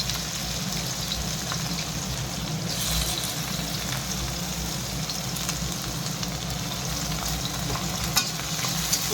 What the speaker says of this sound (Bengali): এই যে পেঁয়াজ আর টমেটো আর কাঁচা লঙ্কা রেডি করে রেখেছি, এগুলো দিয়ে দিচ্ছি।